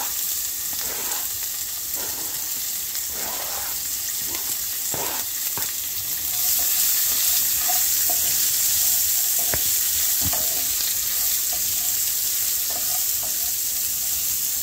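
Green chillies and onions fry in a pan with a steady, loud sizzle and hiss, while occasional stirring scrapes and clicks sound close over the continuous frying.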